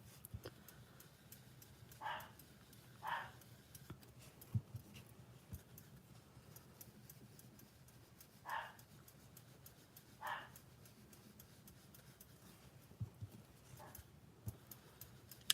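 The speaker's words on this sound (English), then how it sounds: "if you can hear him barking" A dog barking outdoors, heard as a few faint, distant barks spaced several seconds apart over a quiet room, with occasional small ticks and taps nearby.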